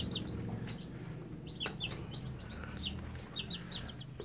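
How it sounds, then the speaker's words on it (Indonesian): Young chicks about ten days old cheep and peep in a coop, a busy chorus of high chirps over a steady low background hum. "Ayam-ayamku di sini ini baru sekitar 10 hari"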